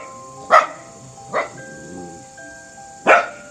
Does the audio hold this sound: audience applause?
no